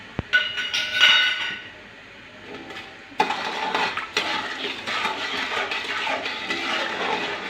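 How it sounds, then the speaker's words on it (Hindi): Sugar syrup with opened cardamom pods stirred in a pot for sweet zarda rice, with a spoon scraping and clinking against the metal over a steady bubbling, simmering hiss; no speech. "इसको हम हिलाते रहेंगे, इसको अच्छी तरह पका लेंगे।"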